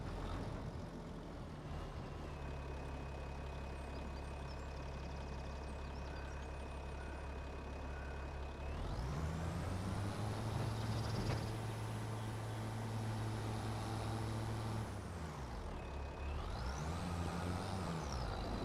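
A truck engine idles steadily in Farming Simulator 25 while backing a trailer, then revs up to a sustained higher whine for several seconds, drops back, and rises briefly again. The sound is close and continuous with a faint hiss.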